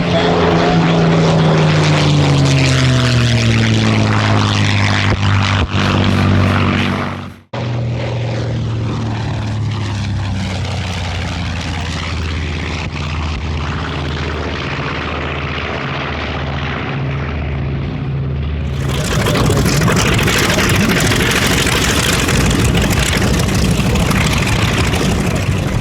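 A propeller warplane powered by a Merlin engine roars past at an airshow, its deep engine drone sweeping in pitch as it passes near and loud, then giving way to a broad, steady rush of noise.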